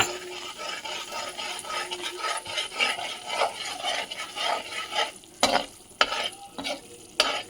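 Spice paste with turmeric roasting in a pan for harira, a steady crackling sizzle under repeated spoon stirring, then a few sharper scrapes and knocks against the pan near the end, close and without speech.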